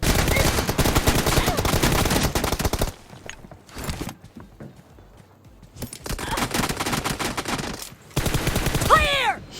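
Gunfire in PUBG Mobile crackles in rapid, loud bursts, dense volleys in the first few seconds, sparser shots after a lull, then another burst near the end, with no speech.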